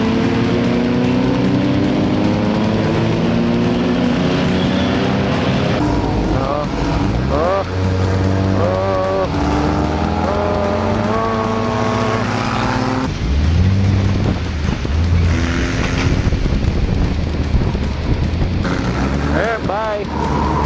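Race cars at a night skid plate race, engines revving and whining with shifting pitch sweeps as they pass, under loud continuous commentary.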